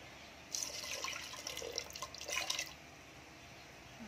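Tamarind water is poured into a simmering drumstick and lentil curry, giving a soft, brief splash and trickle that lasts about two seconds before fading to quiet.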